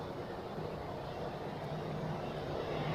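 A Turkish Airlines plane at Zurich Airport, a steady distant engine roar with a broad rumbling hum, faint and constant across the short stretch.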